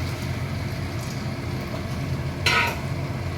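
Fried fish pieces for chilli fish dropped into a pan with tomato sauce, a steady low sizzle and stirring throughout with one brief louder clatter-and-hiss near the end, no talking.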